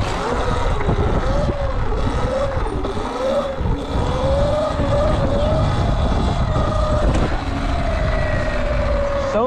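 Close, loud ride on a Sur-Ron electric dirt bike with the foot brake in use, a steady motor whine rising and falling in pitch over constant wind buffeting on the microphone.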